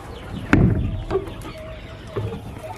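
Baby chicks in an indoor brooder give soft clucks and peeps, with a sharper burst near the start and scattered calls after it, close by and without talk.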